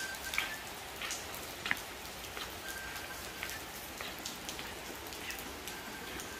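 Heavy rain falls in a steady, dense patter, with a few sharper drips and splashes standing out near the microphone. No voices are heard over it.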